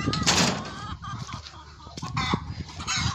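Chickens cluck and fuss close by in a farmyard, a run of uneven clucks and squawks, with a person's voice speaking briefly among them.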